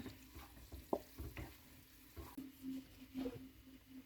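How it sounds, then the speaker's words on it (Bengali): Black pepper powder stirred into onions frying in oil, a faint low sizzle broken by soft spoon scrapes and a few light clinks against the pan, close by and quiet throughout. "এখন নাড়তে থাকবো যেন গোলমরিচের স্মেলটা তেলের সাথে মিশে যায়"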